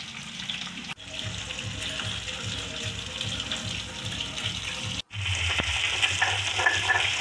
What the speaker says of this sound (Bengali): এদিকে আমার মাছগুলো ভাজা চলছে।